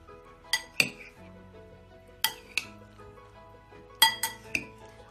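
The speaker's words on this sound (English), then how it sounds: "Add yogurt. Mix the salad." A spoon mixes salad with yogurt in a bowl, giving a few sharp clinks and knocks against the dish in small clusters, close and fairly quiet, with no talking.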